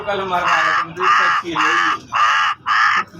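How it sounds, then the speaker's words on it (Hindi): A cartoon crow perched atop a distant coconut tree caws five times in steady, evenly spaced calls, loud and harsh, in an animated horror story for children. "दूर एक नारियल के पेड़ के ऊपर बैठा कालू कौवा काऊ काऊ करके आवाज लगाने लगा"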